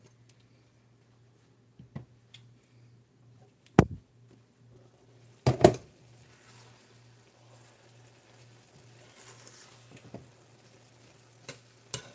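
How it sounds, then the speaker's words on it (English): A creamy chicken dinner being stirred in a pan, with a few sharp scrapes and clinks of a utensil against the pan over a faint, low sizzle and a steady hum, mostly quiet between strokes. "I'm going to stir my meal"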